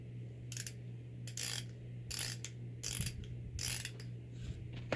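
Pittsburgh ratchet from Harbor Freight clicking in several short bursts of rapid metallic ticks, fairly close, with pauses between strokes over a steady low hum.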